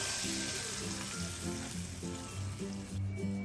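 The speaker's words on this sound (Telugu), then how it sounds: "తాలింపుని సాంబార్లో పోసుకుందాం" Hot tempering of green chillies, asafoetida and turmeric poured into okra and green chilli sambar, giving a loud, steady sizzle that hisses throughout with a low tune running underneath.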